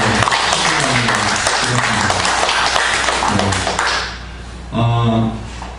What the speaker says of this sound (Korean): 우리 모두에게 우리 축복의 박수를 한번 보내드릴까요?